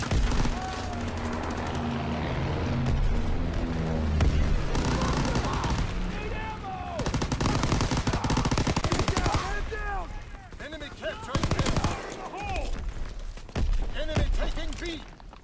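Rapid PPSH-41 submachine gun bursts crackle through a WW2 shooter game, loud and dense automatic fire in repeated volleys mixed with explosions and game voice callouts.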